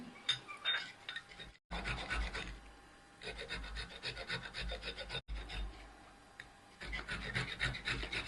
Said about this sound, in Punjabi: ਆ ਆਪਾਂ ਲੈ ਲਿਆ ਬੀਟ ਰੂਟ ਜਿਹਨੂੰ ਆਪਾਂ ਚਕੰਦਰ ਬੋਲਦੇ ਆ ਤੇ ਇਹ ਆਪਾਂ ਵਾਸ਼ ਕਰਕੇ ਇਹਨੂੰ ਛਿੱਲ ਲਿਆ ਤੇ ਹੁਣ ਆਪਾਂ ਇਹਨੂੰ ਗ੍ਰੇਟ ਕਰਦੇ ਆ